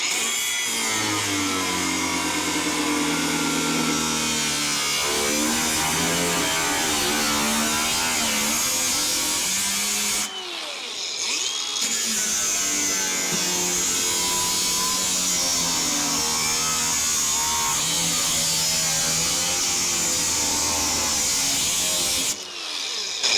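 A power tool cuts out a welded metal section with a loud, steady grinding buzz that runs almost continuously, breaking off briefly twice before resuming.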